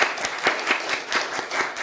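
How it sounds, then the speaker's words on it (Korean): Brief applause from a Korean church congregation at a Sunday service celebrating two elders' birthdays, a steady patter of many hands clapping close by. "이 두 분에게 박수로 축하 인사하겠습니다"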